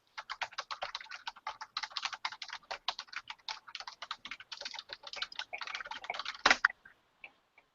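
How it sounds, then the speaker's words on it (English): Rapid typing on a computer keyboard, a steady run of close, crisp key clicks with short pauses and one louder clack near the end before it stops. "I'm going to type this in the chat so that you can see it"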